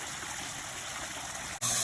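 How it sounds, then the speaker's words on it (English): Water trickling through a backyard pond-less waterfall, a steady close hiss and splash that continues evenly and then brightens sharply near the end. "You can see that the water fill valve is working right now. It's filling it up."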